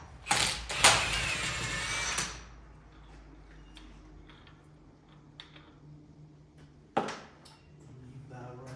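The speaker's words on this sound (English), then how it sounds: "take the axle nut off." Mechanical ratcheting and clicking from removing the axle nut on a Nissan Skyline R32 in a home garage, a loud burst in the first two seconds and a short clack near seven seconds, with quiet shuffling between.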